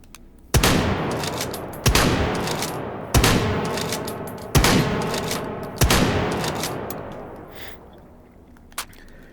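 Semi-automatic gunfire in the VR shooter Hot Dogs, Horseshoes and Hand Grenades: five loud, sharp shots spaced about 1.3 seconds apart, each with a long ringing decay, then a faint final click.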